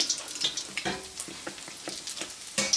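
Doughnuts fry in hot oil with a continuous crackling sizzle, scattered pops and bubbling throughout, at moderate loudness with no voices.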